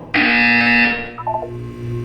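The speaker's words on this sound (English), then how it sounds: "When you hear the buzzer, look down at the floor." A loud electronic buzzer in the Portal 2 video game, one harsh sustained blare that cuts off abruptly, followed by softer electronic chimes over a low mechanical hum.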